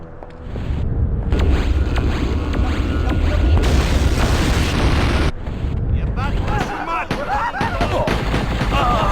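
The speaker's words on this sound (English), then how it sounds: "The reactor is overloading, Crypto! Get out fast! It's going to blow!" A reactor blows up in the video game Destroy All Humans! 2: a loud, sustained explosive roar and rumble that fills the whole stretch, with a brief dip before it swells again and game voices speaking over it.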